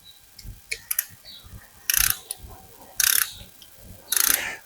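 A ratchet snugs up a bolt on an LS engine valve cover, first with a few light clicks and then three short, loud bursts of rapid pawl clicking, close and alone.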